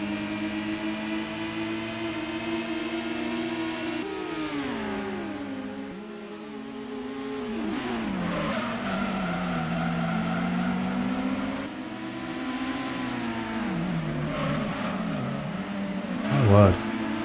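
Race car engine in Gran Turismo on PS1, a continuous whining drone that climbs and drops with each gear change and corner through a lap, with a brief squeal near the end.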